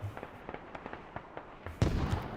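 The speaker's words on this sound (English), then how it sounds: "The mortars landing." Mortar shells landing in the Squad video game on the Logar Valley map, a run of faint distant thumps spaced out early on, then a louder, closer impact near the end of the short clip.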